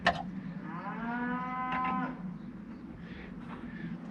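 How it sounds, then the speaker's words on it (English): Cattle shut inside a farm building while the rest of the herd grazes outside give one long, loud, drawn-out moo near the start, then a fainter call later, over a steady low background hum. "Those cattle really aren't very happy about being shut in"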